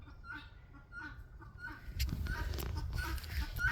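Chickens in a pen cluck in short repeated bursts at moderate distance, with a louder rustling stretch partway through and some faint background voices.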